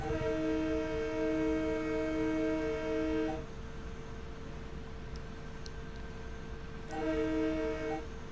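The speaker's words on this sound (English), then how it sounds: "I'm going to start blowing the horn for the railroad" A loud, sustained train horn from a Budd M3 in Train Sim World sounds for about three seconds near a railroad crossing, falls silent over a low rumble, then blasts again, with rolling rail noise throughout.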